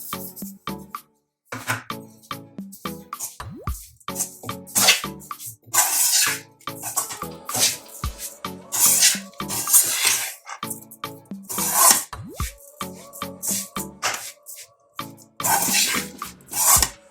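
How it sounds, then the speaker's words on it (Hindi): Sugar is stirred into cooled roasted wheat-flour panjari, producing close, repeated dry rasping and scraping strokes in an uneven rhythm, heard alone without any talking. "अब इसमें हम शुगर मिक्स कर देंगे।"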